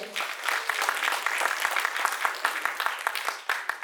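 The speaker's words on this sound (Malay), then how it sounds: "Berikan tepukan yang gemuruh kepada dia." Steady, dense applause from an audience at a university forum, even and sustained throughout, with a voice faintly audible underneath.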